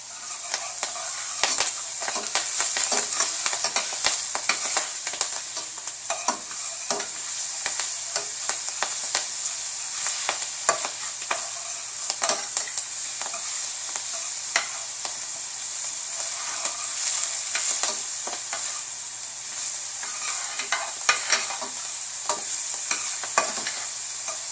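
Parsley sautéing in a pot as the base for a head-on Argentine red prawn dish, giving a steady, close sizzle with scattered crackles and stirring scrapes throughout, no voices.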